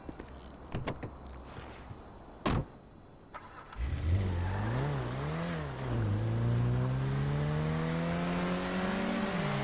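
A car engine in the GTA 5 video game fires up after a few clicks and thumps, then revs and accelerates steadily through rising gears, close and loud, with no talking.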